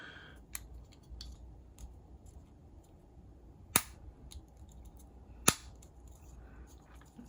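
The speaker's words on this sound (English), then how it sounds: "That's kind of difficult to clip in." A mounting bracket snapping onto a Mobius Maxi 4K action camera produces a few sharp, isolated plastic clicks spaced seconds apart over a quiet, close background with no talking.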